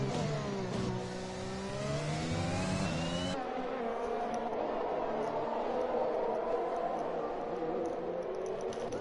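A race car drives and revs hard during a racing event in Hungary, its engine note rising and falling through gear changes, loud and close at first, then quieter with a steady background roar.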